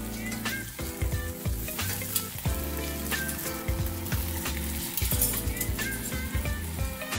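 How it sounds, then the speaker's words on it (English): Parmesan-crusted chicken fries in a pan just after flipping, giving a steady close crackling sizzle with scattered pops and light clinks throughout. "we're going to flip this chicken over. So be aware that it might splatter a little bit."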